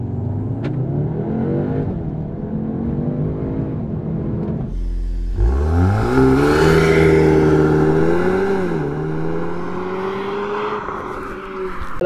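An Audi S3 engine in Dynamic Plus mode revs and accelerates hard, rising in pitch through the gears with a loud, close, sustained roar.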